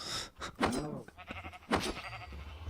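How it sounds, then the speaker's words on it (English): Vampire cows in the Minecraft video game's vampire dimension give a few short, bleating moos in quick succession, fairly close and clear, with quiet pauses between calls. "There's vampire cows."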